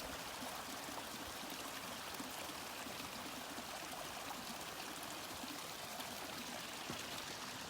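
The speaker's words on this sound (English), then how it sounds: "The creek flowing right there." Mountain creek flowing beside a willow-lined trail in Colorado in late fall, a continuous close rush and gurgle of water, steady and even with no voices.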